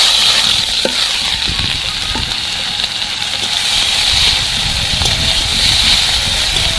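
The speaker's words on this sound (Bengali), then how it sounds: "পেঁয়াজটা ভালো করে ভাজা ভাজা করে নেব" Onions fry in hot oil seasoned with whole cumin and cardamom, a loud constant sizzle and hiss with occasional stirring scrapes and clinks close by, no talk.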